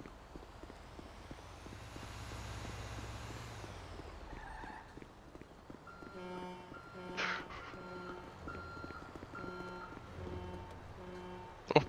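In a PC roleplay game, a truck's reversing alarm beeps in a steady, evenly spaced electronic pattern. It enters midway after rumbling engine and traffic noise, and stays moderately loud over the low background hum.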